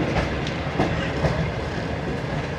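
Trains crossing and overtaking at a station in Pakistan, a steady rumbling roll of rail cars with faint clickety-clack from the wheels, continuous and fairly close, with no talk.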